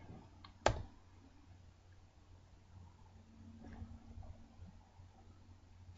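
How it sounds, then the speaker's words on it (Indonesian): A single sharp keypress on a computer keyboard, the Enter key, sounds once as a crisp click early on, followed by faint room noise and a soft later tap. "kemudian tekan enter pada keyboard"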